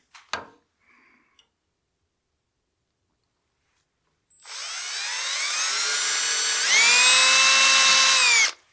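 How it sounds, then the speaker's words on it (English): Power drill boring armholes into a turned wooden snowman for an oil candle: a few faint knocks, then a steady motor whine that rises in pitch and runs for about four seconds before stopping, with no talk. "So we've got our armholes drilled in the nose."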